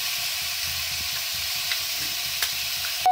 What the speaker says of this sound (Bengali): মশলাটা ভালো করে কষে নিচ্ছি।